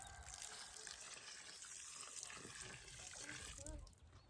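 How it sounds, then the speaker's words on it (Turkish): Water pours from a container onto a newly planted pink garden rose, a steady faint gushing and splashing that carries on for several seconds under quiet background noise. "Bakalım suyumuzu da döküyoruz."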